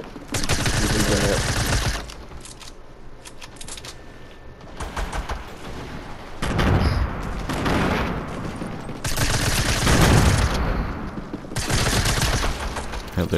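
Pump shotgun fire in the Fortnite video game, loud repeated gunshot bursts in clusters separated by brief lulls, with gameplay chatter in the background.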